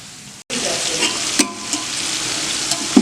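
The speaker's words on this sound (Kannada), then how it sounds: "ಚೆನ್ನಾಗಿ ಬೇಯ್ತಾ ಇದೆ. ಈರುಳ್ಳಿ ಒಂದು ಹಾಫ್ ಕುಕ್ ಆಗಿದೆ." Onions half-cooked and browning in oil for chicken biryani make a loud, steady, close sizzle after a brief cutoff, broken by a few metal utensil taps.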